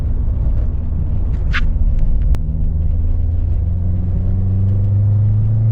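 A 1984 Porsche 944 Callaway Turbo engine pulls steadily, a loud continuous low rumble and drone with rising tone, close and unbroken, no talking over it.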